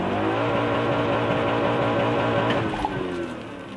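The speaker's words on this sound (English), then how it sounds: "I let off the gas to stop the burnout, and it was fine." A car held at full throttle during a rolling burnout gives a steady, loud engine drone with tire roar, sustained for several seconds before easing slightly at the end.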